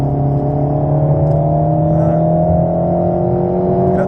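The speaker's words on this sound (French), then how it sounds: "Doucement sur l'accélérateur en doublant." A race car engine drones loudly and steadily on the Circuit de Dreux track, pitch rising gradually as it accelerates while overtaking, close and continuous throughout.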